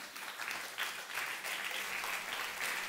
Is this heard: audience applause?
yes